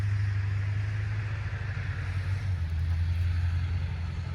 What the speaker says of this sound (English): There's a car. I'm just waiting for him to pass so you can hear me.